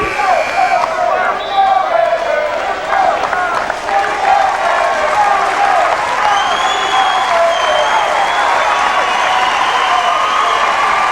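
The Pitman crowd applauds a player finishing his career at a 1996 South Jersey Group 1 high school basketball championship, a steady, sustained wash of clapping and cheering in a gym, with commentators talking over it.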